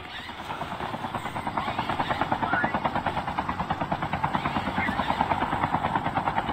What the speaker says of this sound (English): We had a helicopter here